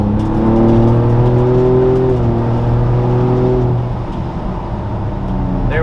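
A new Ford Bronco fitted with an AWE off-road exhaust accelerates from inside the cabin, engine drone rising steadily in pitch, then dropping at a shift before building again, loud and close.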